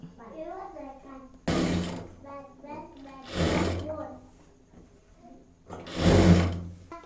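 A sewing machine stitching a sleeve onto a top runs in three short, loud bursts of rapid whirring, and someone talks in the quieter gaps between them.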